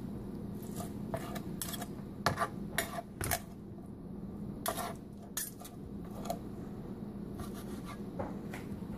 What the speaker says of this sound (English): knife's going just right through it